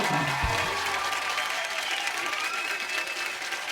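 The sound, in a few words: studio audience applause for Sunny Leone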